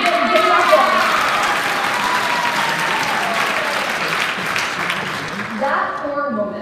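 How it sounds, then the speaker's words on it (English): A high school audience gives a round of applause, dense clapping that peaks early and then slowly thins, while a voice talks over it near the end. "can we just do a quick round of applause for my mother?"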